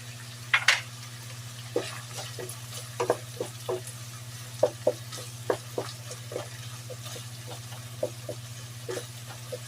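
Onion and garlic sizzle in a pan for afritada-style beef giniling, a soft steady fry under a constant hum, broken by repeated scraping stirs and clinks of a utensil.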